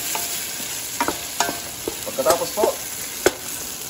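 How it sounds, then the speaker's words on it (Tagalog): Garlic, onion and tomato sizzle in hot oil while a spoon stirs and scrapes the pan, with bright sputtering and several sharp clicks, close up, and a voice speaks briefly. "Lagay na natin yung ating bawang sibuyas na kamatis. Then, halong-haluin lang po natin."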